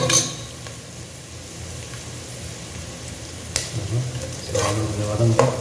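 Onions sautéing in a pan for a village-style fish head curry make a loud, steady frying hiss, with a few spatula strokes and sharper scraping bursts near the end.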